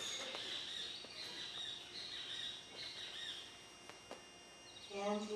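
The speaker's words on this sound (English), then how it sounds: "Listen to the birds." Birds chirping and squawking outdoors by Lake Chapala in Mexico, a mix of repeated high calls at moderate distance over faint background hiss, no talking.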